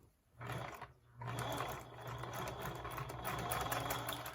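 A sewing machine stitches along the seam of a fabric face mask, its motor whirring in a fast, even mechanical chatter after a brief start and stop, close and fairly quiet.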